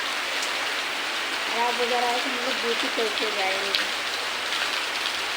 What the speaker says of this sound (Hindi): हमारे घर से बारिश हो रहा है